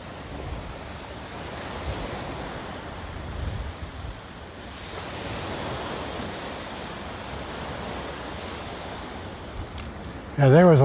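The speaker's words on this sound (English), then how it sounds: "You can see the tide coming in here now." Incoming tide washing onto a beach, a continuous broad rush of surf and wind rising and falling, with a brief louder bump at the end.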